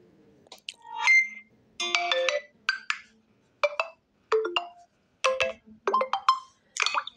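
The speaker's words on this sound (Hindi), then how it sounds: "मैसेज टोन पे क्लिक करने के बाद आपके सामने कई सारे यहाँ पे मैसेज टोन शो हो जाएंगे" A series of short message alert tones previewed one after another on a vivo Y25 phone, each chime a bright melodic jingle separated by brief silences, clear and close with no talking.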